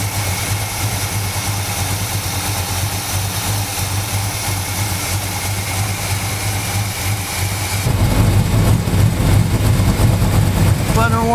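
A Squarebody Chevy truck engine idling as it warms up, a steady low rumble close by that grows louder and rougher near the end.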